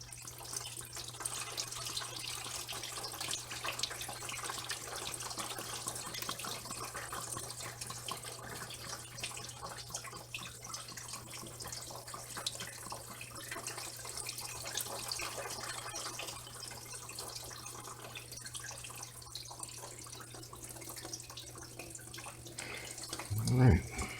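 Coolant draining from a 2015 Dodge Grand Caravan RT 3.6L into a pan during thermostat replacement, a steady trickling pour running throughout, with a louder splash near the end and a constant low hum beneath.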